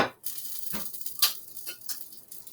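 A flatbread pizza with pesto, tomatoes and aged gouda sizzles faintly just out of the oven, a soft crackling hiss with a few light ticks and clicks.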